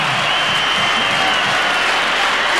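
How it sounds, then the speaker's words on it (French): Dense, steady applause from a large stadium crowd of Bordeaux supporters saluting the Bayern Munich team after a UEFA Cup final, sustained and even throughout with no pauses. "Et le public bordelais applaudit cette belle équipe du Bayern de Munich"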